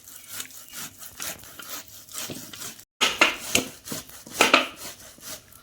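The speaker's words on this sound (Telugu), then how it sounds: "ఇలా టెంక వచ్చేంత వరకు తురిమేసుకోండి" Palm fruit rubbed against a grater into pulp, close rhythmic rasping scrapes in quick repeated strokes, pausing briefly midway then resuming louder, no voices.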